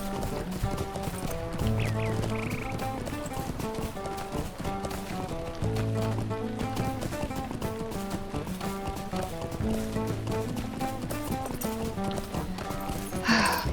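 Horse hooves clip-clopping at a steady rhythmic gait while riding in the video game Lord of the Rings Online, continuous and fairly close, with repeating background music running underneath.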